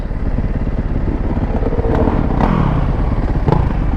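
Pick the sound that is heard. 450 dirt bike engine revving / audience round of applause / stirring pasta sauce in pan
450 dirt bike engine revving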